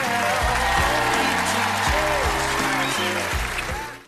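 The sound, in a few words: thunderous applause from TV show audience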